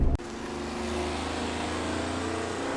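A 1991 Honda Acty kei van pulls away after a brief click, its small engine holding a steady, close, even hum as it gets under way.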